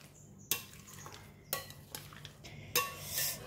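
Crab stick and noodle salad being lightly stirred in a bowl, soft scraping of utensil against the dish punctuated by three distinct clinks, quiet and close.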